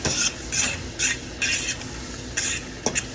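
Chopped onions caramelizing in a pan are stirred in a steady rhythm, each stroke a short, bright scrape over a soft sizzle, close and clear with no voices.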